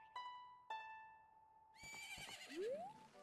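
Epona, the horse in the video game The Legend of Zelda: Majora's Mask, gives a short whinny, faint and in the clear, over sustained tonal game music notes.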